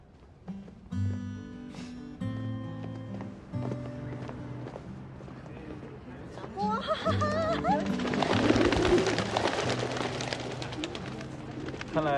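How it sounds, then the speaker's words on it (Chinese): Pigeons on a square in Munich coo and flap amid outdoor bustle, with soft cooing, footsteps and a burst of wing flutter growing louder toward the end over a low musical bed. "看来你不太受鸽子待见啊。"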